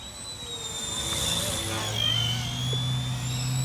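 An RC Era C138 PRO brushless RC helicopter flies outdoors, giving a steady buzzing whine of rotor and motor that swells slightly as it passes, heard from a moderate distance in wind.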